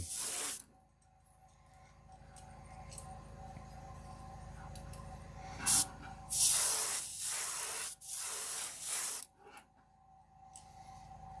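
An airbrush sprays a light dusting of paint onto a jerkbait fishing lure, giving a steady close hiss that runs throughout, with several louder short bursts near the end.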